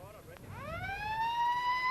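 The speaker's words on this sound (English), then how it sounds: "That was the siren" A siren at a 1989 university college football final wails with a rising, sweeping pitch that climbs and then holds steady, loud and close, over a low background rumble.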